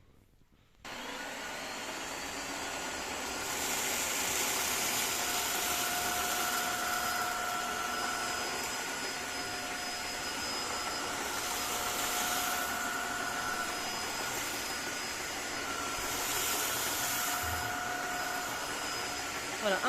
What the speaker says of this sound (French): Donc là, je vais aspirer les lentilles et du riz.